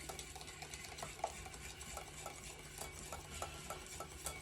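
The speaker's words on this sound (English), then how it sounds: "I'll just keep stirring it this way." A utensil stirs eggs and milk in a bowl for keto egg custard, giving soft repeated scraping and light clinks at a steady rhythm, close and quiet, with no talking.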